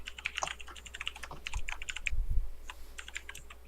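Rapid typing on a computer keyboard, a dense run of light clicks and clacks at close range that carries on without pause, with a few duller thuds mixed in and no voices.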